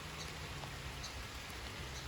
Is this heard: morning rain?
yes